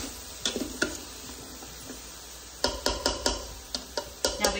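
Beef, broccoli and carrots stirred in a pan for a stir fry, giving a series of sharp scraping clicks and taps, sparse at first and then quicker, over a soft steady sizzle.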